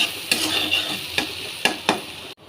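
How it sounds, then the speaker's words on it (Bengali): Onion and garlic sizzle in hot oil in a pan, with several sharp scraping stirs of a spoon at an irregular rhythm, close and fairly loud, with no talking. "দিয়ে দিব আমি এখানে পেঁয়াজ, দিয়ে দিব রসুন। একটু ভাজা ভাজা করব।"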